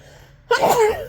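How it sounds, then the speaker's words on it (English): A single sharp sneeze bursts out after a moment of near silence, close and fairly loud, trailing off into a breathy tail. "Oh, I'm gonna sneeze."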